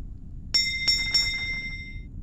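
A small bell rings clear and bright, with three quick strikes whose tones hang on and slowly fade over a quiet background.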